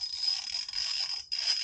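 A 6mm hex key breaks motorcycle screws loose during a Rivco accessory install, making a steady metallic creaking grind with a short pause and then a second turn.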